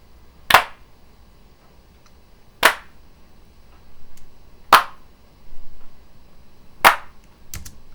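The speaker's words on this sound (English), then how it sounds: "I did some hand claps, which I recorded." Hand claps recorded as a drum sample with a pencil condenser mic in an apartment: four crisp, isolated claps spaced evenly about two seconds apart, with a faint softer tap near the end and near silence between them.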